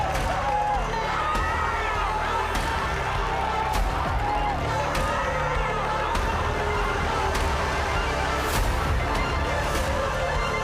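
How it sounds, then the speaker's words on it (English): Crowd of spectators cheering and shouting for a cyclist descending on a road race course in Zürich, Switzerland, a steady roar with sharp whoops and whistles throughout, under talk. "Look at the number of people here who are cheering him on."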